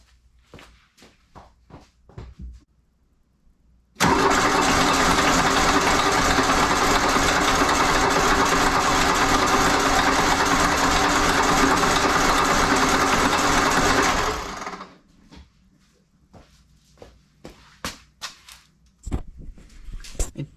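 A Mk1 diesel engine cranks steadily for about ten seconds without catching, a loud continuous mechanical whir that starts abruptly and winds down, with footsteps and shuffling before and after.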